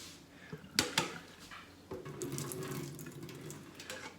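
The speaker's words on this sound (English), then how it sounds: "We've got one more thing to do with the asparagus, and that is we drain the asparagus." Cooked asparagus is drained at a sink, with water splashing and running in short bursts, a couple of sharp clunks from the pot, and a steadier pour toward the end, all fairly quiet.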